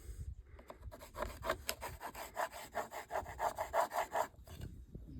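A hand saw cuts through a wooden board with quick, rhythmic back-and-forth rasping strokes, close and steady.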